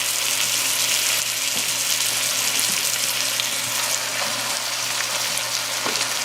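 Over two pounds of ground beef fries with translucent onions in a pan for chipotle chili with beer and chocolate, giving a steady close hiss and crackle with occasional stirring taps.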